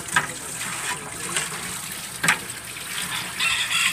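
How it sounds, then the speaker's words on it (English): Running tap water rinses freshly butchered rabbit pieces, a steady gushing stream close by, broken by a few brief splashes as the meat is moved under it. "I'm going to rinse them off."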